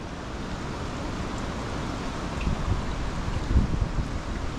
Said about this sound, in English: That wind is ripping.